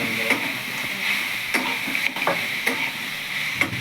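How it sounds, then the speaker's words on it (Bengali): Olive pickle with salt and turmeric stirred in a pan, soft scraping strokes at an irregular pace over a faint steady sizzle, close up with no talking. "এর মধ্যে সামান্য নুন হলুদ দিয়ে দিচ্ছি, দিয়ে আবার ভালো করে নাড়াচাড়া করে নেব"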